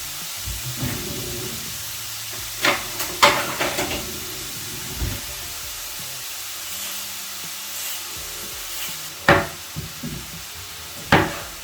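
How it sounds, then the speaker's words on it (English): Onion browning in a pan for a cabbage and meat stew: a continuous soft sizzle and hiss, with occasional clicks and scraping knocks from the utensil and pan, close by with no talking. "just start browning the onion"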